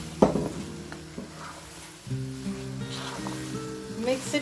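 Chickpeas sizzling in a pan of mashed masala for an Indian puri channa breakfast, a steady frying hiss with scraping stirs and a sharp clatter near the start, close and moderately loud.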